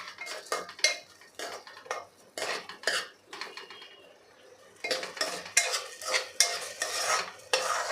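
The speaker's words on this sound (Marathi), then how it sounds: "तांदूळ आपल्याला 2 मिनिटासाठी तुपामध्ये परतून घ्यायचा आहे।" A spoon stirs rice in ghee in a metal pot over a medium flame for saffron rice, with repeated scraping, clinking strokes in an uneven rhythm, close and fairly loud.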